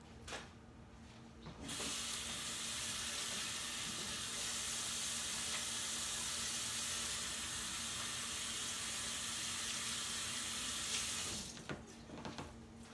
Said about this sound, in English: I'm actually going to wash my hands